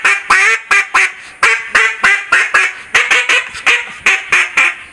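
Haydel's KC 13 keyless cutdown mallard duck call blown in short, loud, close quacking cadences, about fifteen sharp hen-like notes in quick rhythmic bursts, imitating an aggressive mallard hen, with no talking.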